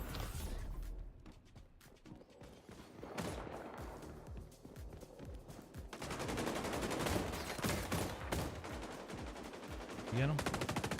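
Rapid automatic gunfire and scattered single shots from an XDefiant online shooter match, loud and dense throughout, with brief quieter stretches between bursts and some game sounds mixed in.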